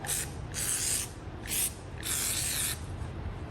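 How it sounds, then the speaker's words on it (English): Four hissing bursts of WD-40 aerosol spray, short then longer, separated by brief pauses over a low mechanical hum, sprayed on a Black and Decker Model 624 HD impact wrench. "I'm just going to spray WD-40 on it."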